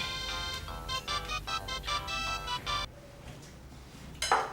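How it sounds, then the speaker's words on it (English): A phone ringtone plays a repeated melodic pattern of bright tones for about three seconds, then stops, leaving quiet room tone before a brief clatter at the end. "Your phone is ringing."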